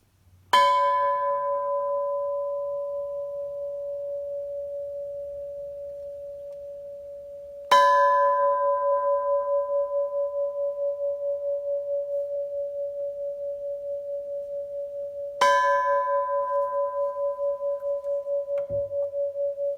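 A gong at a church service is struck three times at even intervals, each stroke ringing out in a long, pure, slowly fading tone that sustains until the next hit.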